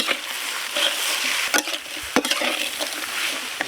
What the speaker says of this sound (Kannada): ಈ ಥರ ಎಲ್ಲ ಮಸಾಲೆ ಐಟಮ್ನು ಎಣ್ಣೆಲಿ ಹುರ್ಕೊಬಿಟ್ರೆ